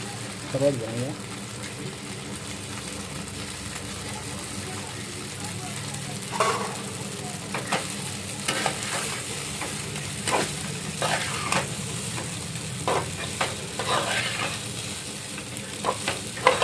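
Home-cooked pasta being tipped into a pan and stirred, a steady sizzle with scraping stir strokes and intermittent clinks, fairly close, with a voice talking over it at times.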